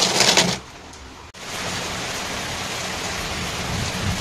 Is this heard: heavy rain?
yes